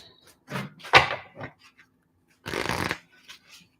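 Tarot cards being shuffled up close in a few quick riffling bursts, followed by a longer, louder riffle, with short pauses between.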